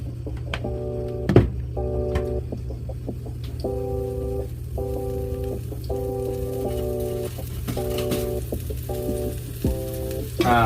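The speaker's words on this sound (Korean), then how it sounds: "자, 이제 당근 볶아주도록 하겠습니다. 기름을 좀 두르고요." Oil sizzling softly in a pan, ready for stir-frying carrots for gimbap, a steady low crackle under repeated rhythmic electronic beeps, with no one talking.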